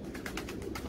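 Pigeons coo softly in a loft of fancy birds, a quick run of about five low, rounded coos, faint and fairly close, with no talking.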